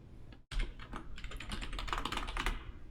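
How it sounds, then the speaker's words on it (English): Administrator password typed on a computer keyboard during a Windows Server 2019 installation, a quick run of close, crisp key taps after a brief silent gap, with no talking. "I want to go ahead and put my administrator password in here"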